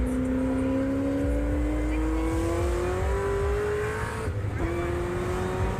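Supercharged car cruising on a highway, a steady rising whine over constant road and engine drone, with a brief dip and shift near the end, close inside the cabin and sustained throughout.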